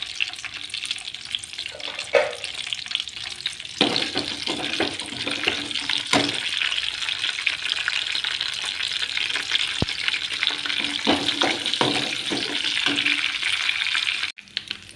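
Mustard seeds, cumin and chillies sizzle in hot oil with a bright, continuous crackle and scattered pops close by. Stirring scrapes come through over about fifteen seconds, then the sound cuts off abruptly near the end.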